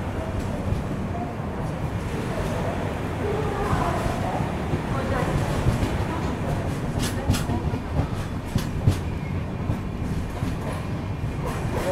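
The Telangana Express creeps slowly along the track, its wheels rumbling continuously up close with scattered clicks and faint squeals.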